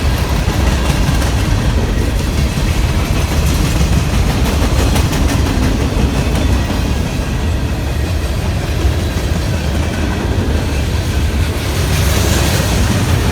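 Loud, steady rumble of a long freight train passing close by, wheels clattering on the rails and a heavy distributed-power locomotive engine at the rear droning underneath, in Selma.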